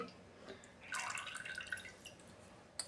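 Plain milk is poured into a pot while making jaggery kharvas, a faint, close liquid pour lasting about a second amid quiet kitchen room tone.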